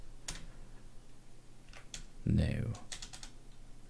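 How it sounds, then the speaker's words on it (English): Typing on a computer keyboard while setting up Docker and nginx, with scattered clacks and a louder burst of keystrokes in the middle, and a brief spoken word. "My typing today is great."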